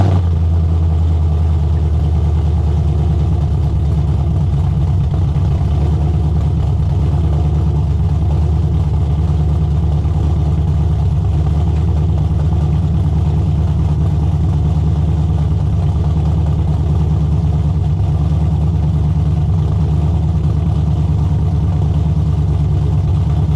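A car called the Rocketbird runs through a freshly fitted true dual axle dump exhaust from Speed Engineering, giving a loud, close, deep continuous rumble that swells slightly as it revs, with no talking.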